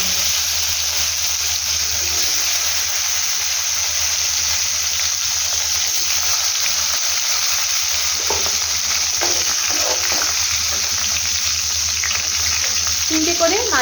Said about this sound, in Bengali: আমি এখন এখানে একটা একটা করে মাছগুলোকে ছেড়ে দেব। মাছটাকে আগে ভালো করে ভাজা করে নেব।